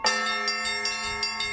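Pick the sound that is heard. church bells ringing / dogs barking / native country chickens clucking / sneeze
church bells ringing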